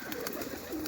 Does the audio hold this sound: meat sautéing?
no